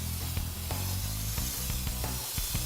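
A pressurized fan hand sprayer hisses steadily across a photomask for sandcarving, a continuous broad spray with faint clicks and taps beneath it, close and alone.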